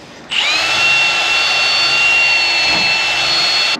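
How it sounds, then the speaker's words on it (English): A power drill spins up abruptly and whines at a high steady pitch, close and loud, fitted with a homemade sandpaper drum that grinds against a surface. "I just took some sandpaper, wrapped it around my drill bit, made my own little like drum sander"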